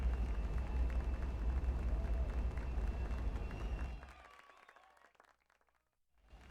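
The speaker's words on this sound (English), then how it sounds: "Man, they're just still applauding." Crowd applause in the video game Fantasian Neo Dimension, a dense continuous wash of clapping that carries steadily for about four seconds, then thins out and fades to near silence before a faint return.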